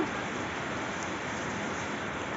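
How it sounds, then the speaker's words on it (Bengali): Rain falls steadily outside a home, an even, soft hiss with no breaks and no voices. "বাইরে বৃষ্টি পড়ছে,"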